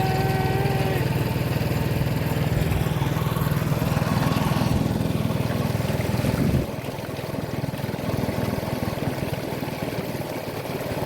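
A motor boat engine on the Kuttanad backwaters drones loudly and steadily with a low buzzing hum, then cuts out partway, leaving quieter water and ambient noise.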